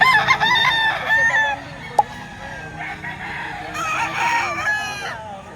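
Gamecock roosters at a market in Lipa, Batangas crow in long, rising calls, one after another and loud and close, with clucking and a sharp knock between crows.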